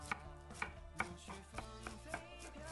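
A knife rapidly shreds cabbage finely on a cutting board, a quick series of sharp, evenly spaced strikes with nothing else audible.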